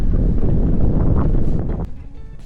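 Gusty breeze buffeting a microphone on a bike tour, a steady close rumble of wind that eases slightly near the end, with no voices.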